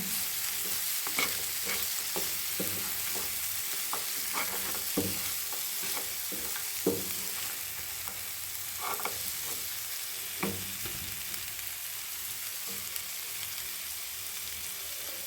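Jaggery being stirred into sweet mango pickle in a pan, with a steady low sizzle and a run of scraping spoon strokes that come in irregular bursts and then thin out toward the end.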